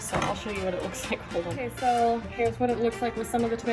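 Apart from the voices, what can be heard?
No everyday noises stand out.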